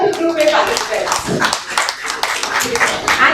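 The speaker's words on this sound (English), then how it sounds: "Can we have a round of applause from all the Group A participants?" Applause for children taking part in a kids' public speaking talent hunt, with a small group of hands clapping unevenly, fairly close and fluctuating, while voices talk over it.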